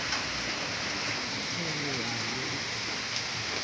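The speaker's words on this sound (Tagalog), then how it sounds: "Lumakas na ang ulan." Steady rain falls outdoors during an evening grill, a constant dense patter close by that holds an even level throughout, with faint voices underneath.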